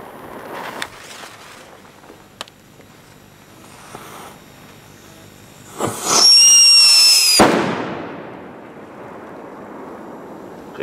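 A large firecracker goes off with a sudden loud bang and a crackling, hissing burst that lasts about two seconds, then fades into a long rumbling tail, after several smaller pops and rustling outdoors.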